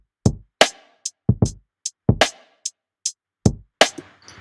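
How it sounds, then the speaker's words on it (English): Lo-fi drum loop from a Splice sample pack with a loose, swung, off-grid groove: punchy kicks, snappy snares and crisp hi-hat ticks in a steady repeating pattern. It plays alone, up close and fairly loud. "Pretty much started with just a splice lo-fi drum loop."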